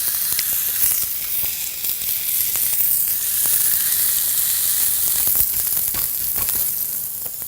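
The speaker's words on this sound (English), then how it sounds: "And now, sizzle." Sausage patties sizzle steadily on a hot breakfast griddle, a loud, continuous frying hiss with faint scattered pops and scrapes, no voices.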